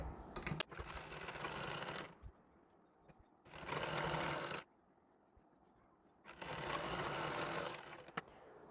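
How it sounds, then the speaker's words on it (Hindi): A sewing machine stitching a fine seam along the border of a Nauvari saree runs in three steady bursts of whirring, each lasting about two seconds, with quiet gaps between them and no talking. "अब यहाँ पर भी हमें बॉर्डर पर एक बारीक टाँका लेकर सिलाई लगा लेनी है।"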